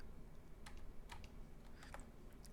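Soft, irregular keystrokes on a computer keyboard while working in Emacs, a few quiet scattered clicks over a faint room hum.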